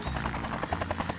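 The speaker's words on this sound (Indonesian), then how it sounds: "Tiba-tiba helikopter lantang mengusik kedamaian." Loud helicopter rotor thudding in a rapid steady rhythm, close and continuous, with no voices over it.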